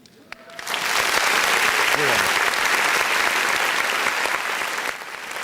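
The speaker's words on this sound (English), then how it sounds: "You can clap for that too." Wedding guests at an evening reception break into sustained applause that rises quickly after a brief word, staying loud and dense for several seconds before easing slightly.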